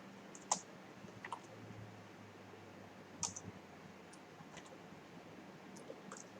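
Computer keyboard keys are pressed, including the space bar and Enter, as a few sparse, faint, sharp clicks spread across a quiet background with no talking.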